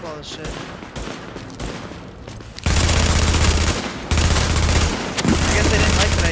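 Enemy gunfire crackles in a video game, with scattered shots at first and then loud sustained automatic bursts, while a voice talks over parts of it.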